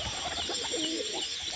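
A pied pigeon perched nearby gives a soft, warbling coo, fairly faint against a hissy background, with no one talking.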